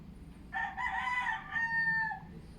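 A rooster crows once, a loud drawn-out cock-a-doodle-doo rising and holding for about two seconds over a low background rumble.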